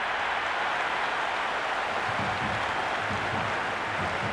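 Stadium crowd noise in the Cricket 26 video game during a Sri Lanka versus Pakistan match, a dense, continuous roar of cheering and applause with no speech.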